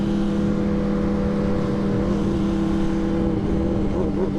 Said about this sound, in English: his bike is loud